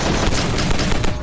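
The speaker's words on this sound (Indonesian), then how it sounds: "Lalu ia keluar dari tempat sana dan menembaki semua orang yang ada di sana." Dense gunfire from a film scene as a man shoots everyone in the place, a rapid, loud burst of overlapping shots and booms filling the whole short clip.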